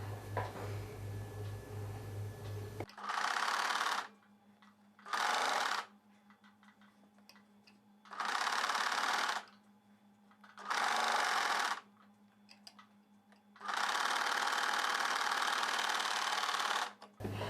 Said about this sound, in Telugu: ఈ షేప్ బెల్ట్ పార్ట్ని పెట్టుకొని కుట్టు వేసేసుకోవాలి.